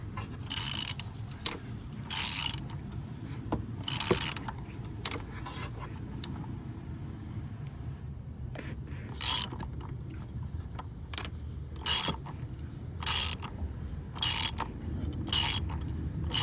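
Socket ratchet loosening the oil drain fitting under a 2021 Mercedes Sprinter van, giving short bursts of quick metallic clicking at irregular intervals, close up, over a low steady room hum.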